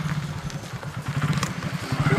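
A motorcycle engine putters steadily nearby, its low throbbing growing slightly louder over a couple of seconds, with light clatter on top.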